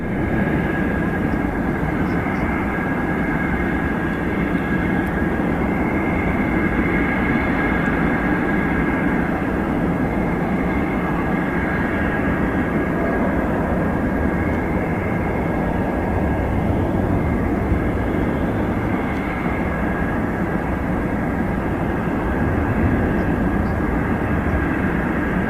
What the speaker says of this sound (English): This DC-9 making a dramatic approach into Anchorage Airport in Alaska.